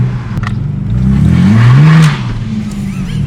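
Lowered Ford Falcon's engine revving from inside the cabin, a loud low drone that climbs in pitch, holds briefly and then drops back to idle.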